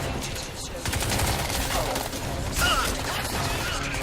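Video game gunfire in dense automatic bursts, moderately loud and continuous, with scattered impacts and mechanical clatter and a voice speaking briefly over it.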